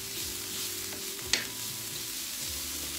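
Garlic, red onions and carrots frying in a pan on a stove, a steady soft sizzle with a low hum and one sharp clink of a utensil midway.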